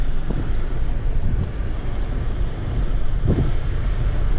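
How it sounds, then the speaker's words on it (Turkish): Wind blows hard and continuously across the microphone at the Kasrik Gorge in Şırnak, Turkey, a loud low rumble with no breaks and a few faint knocks underneath. "Ve rüzgar esiyor."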